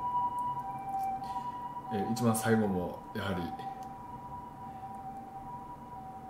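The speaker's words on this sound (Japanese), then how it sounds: "救急車が通ってしまいましたね。" An ambulance siren passes outside, a steady wailing tone that holds throughout at moderate distance, while someone speaks Japanese over it in the middle.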